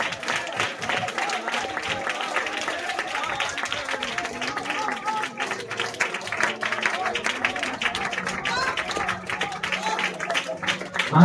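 A congregation claps together at a church service, a sustained, dense patter of many hands lasting throughout, with voices and speech mixed in.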